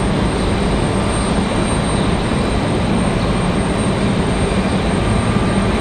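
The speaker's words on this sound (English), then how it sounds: "So Delta 2519 headed to Minneapolis, Minnesota there, that A320" A Delta A320 jet airliner departing Raleigh-Durham airport makes a loud, continuous broadband engine roar that holds steady and close throughout, with no voices.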